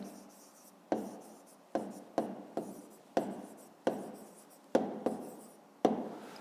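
Pen or pencil writing out a math answer on paper: close, quiet strokes in about nine short bursts, each starting with a tap and fading off, at a slightly uneven pace with no talk.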